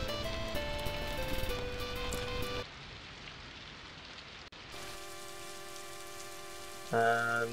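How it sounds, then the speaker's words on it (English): Steady rain hisses across the whole stretch with soft pattering in the game Daggerfall Unity, under a layer of music that cuts out midway and returns, closing with brighter tones. "And it does rain,"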